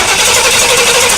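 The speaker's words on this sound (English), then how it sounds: "I've hooked up a jumper wire to this starter motor so that I can get it to crank" Starter motor cranking a car engine, driven through a jumper wire from underneath, its pinion meshing with the ring gear; a steady, loud, continuous mechanical whir and grind running unbroken throughout.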